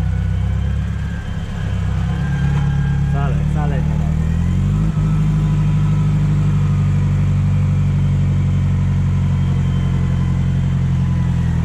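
A tractor engine idles with a steady low rumble up close, briefly revving, while a person speaks a couple of words over it.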